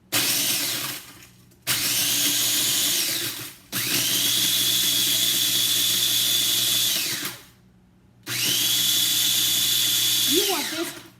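A rotary grinding tool runs in three long, steady high-pitched bursts, whining loudly as it grinds a part down, with short pauses between runs and brief talk near the end.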